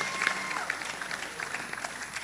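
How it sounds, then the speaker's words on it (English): Audience applause welcoming a speaker at a foundation event, a moderate wash of clapping mixed with crowd murmur and brief voices. "A round of applause, please."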